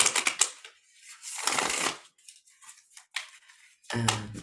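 Bursts of riffling and snapping cards, with quiet gaps of light handling between them.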